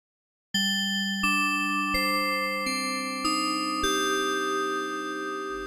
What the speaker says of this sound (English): it's using FM to create a nice bell type sound